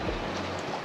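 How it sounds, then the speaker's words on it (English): Wind rushes and waves wash against a sailing boat under sail with its engine off off Newfoundland, a close, steady broadband roar with low rumbling buffets. "you shut off the noisy engine and just can listen to the waves and the wind"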